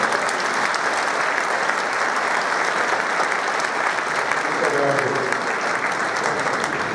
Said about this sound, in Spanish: un aplauso para Rubén Ibarra.